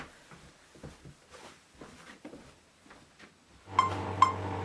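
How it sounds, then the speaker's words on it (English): A metronome app plays through a Bluetooth speaker, giving two crisp clicks near the end over a steady sustained tone, after a quiet stretch of faint background noise. "is my metronome app playing through a Bluetooth speaker here."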